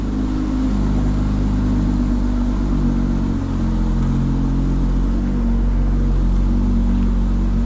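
A 2025 BMW M4 Competition xDrive driving along, a steady low engine drone with road rumble heard from inside the car, constant and fairly loud, with no speech.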